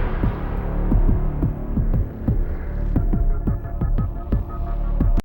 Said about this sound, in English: Lovely kind of arpeggiated synth.